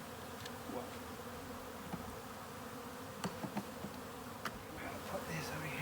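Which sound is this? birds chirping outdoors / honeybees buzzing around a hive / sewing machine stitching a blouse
honeybees buzzing around a hive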